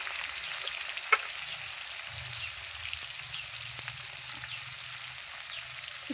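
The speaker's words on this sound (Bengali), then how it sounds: "এবার আমি নেড়ে চেড়ে আলুটাকে লাল লাল করে ভেজে নেব।" Potatoes fry in oil in a pan with salt and turmeric, making a soft steady sizzle with occasional light clicks of stirring, fairly quiet and with no talk.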